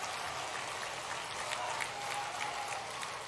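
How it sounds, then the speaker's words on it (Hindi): A crowd applauding the Chief Minister at a large rally in Harda, a dense continuous wash of many hands clapping, heard at a moderate distance without pauses. "खड़े होकर हृदय से सब लोग खड़े हो जाए अपने अपने स्थान पे और जोरदार ताली बजाकर मुख्यमंत्री जी का अभिनंदन करें।"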